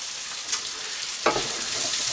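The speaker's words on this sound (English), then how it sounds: "we stir that in and we let that cook round for a minute" Curry powder frying and being stirred in a pan for a vegetable curry, a steady close sizzle with a sharp scrape of the spoon partway through, then a louder, fuller hiss that continues to the end.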